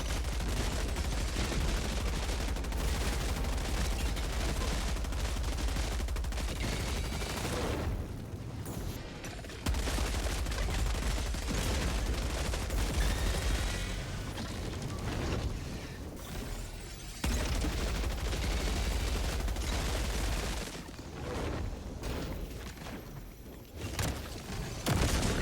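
A heavy machine gun in Helldivers 2 fires in long, dense sustained bursts, loud and close, with only a few brief pauses between strings of rapid shots.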